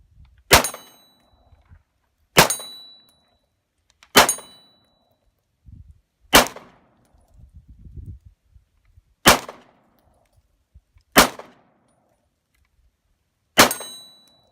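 Browning High Power pistol fired at a target outdoors, seven sharp, loud shots spaced a second or two apart, each with a metallic ringing clang from a hit on the steel stand; quiet rustling and faint movement between shots.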